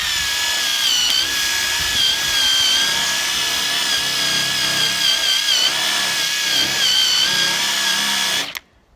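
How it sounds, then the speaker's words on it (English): A wire brush spins on a Ridgid impact driver to scour a seam on a race car trailer roof, giving a steady loud whirring grind that cuts off abruptly at the end. "we've got a wire brush on the rigid little impact, and we're using it to actually clean this seam up"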